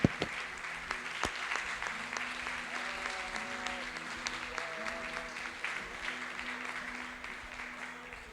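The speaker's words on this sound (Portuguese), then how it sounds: "E aplauda Jesus em nome do Senhor." A church congregation applauding during a Portuguese-language worship service, steady sustained clapping throughout with faint music and voices underneath.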